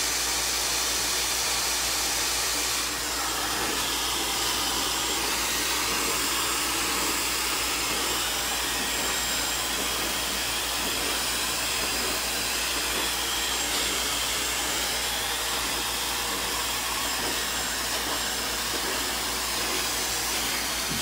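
A hair dryer blows loud and steady for about twenty seconds while drying short layered hair, a close, continuous rushing whoosh with no talking.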